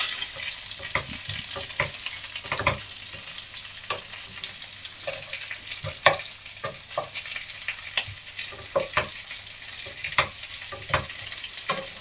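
Fresh egg pasta stirred in a hot pan, a constant sizzle broken by repeated close scrapes and knocks of a spoon against the pan at an irregular pace, with no talk.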